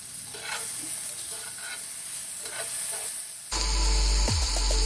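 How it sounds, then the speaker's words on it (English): Steady sizzling and frying of onions in a pan, then a sharper burst of clatter and hiss as sweet potatoes hit the hot oil. "I just put the sweet potatoes in the pan with the onions"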